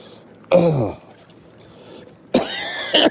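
A single harsh cough, then a pause and a pair of rough coughs close together, loud and close to the listener.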